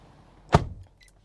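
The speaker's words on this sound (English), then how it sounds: "Nice sounding door when it closes." A single solid thunk as the door of a 2024 Nissan Armada Platinum SUV shuts, close and sharp with a brief low resonance, followed by faint small clicks in an otherwise quiet cabin.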